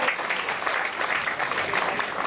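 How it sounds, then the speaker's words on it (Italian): An audience at an Italian accordion performance applauds, a dense, steady wash of clapping without any talk. "Lo voglio sentire di più, l'applauso"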